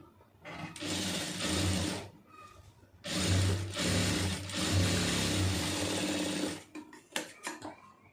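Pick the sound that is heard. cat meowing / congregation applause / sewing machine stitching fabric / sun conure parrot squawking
sewing machine stitching fabric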